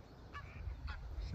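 Geese honking at a wildlife sanctuary beside a canal walk, with a stream running through it; a few separate nasal honks come at moderate distance over low outdoor rumble.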